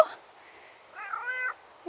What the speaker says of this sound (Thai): แมวใครไม่รู้เรียกใหญ่เลย